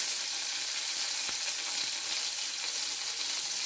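Mustard seeds and asafoetida sizzle in hot oil, a steady close crackling hiss with faint stirring clicks, no talking.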